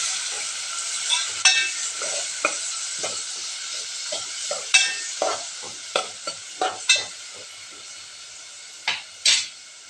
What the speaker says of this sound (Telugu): ఇప్పుడు మనం చిన్నగా ముక్కలు చేసి పెట్టుకున్న టొమాటో ముక్కలు కూడా వేయండి. ఇప్పుడు ఇంకోసారి కలుపుకోండి.